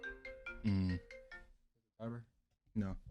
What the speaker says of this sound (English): No, that was my phone.